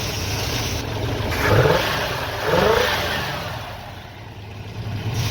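An old Pontiac with a 350 V8 runs smoothly at close range, its steady engine note swelling through two gentle revs before settling back, with no voices over it.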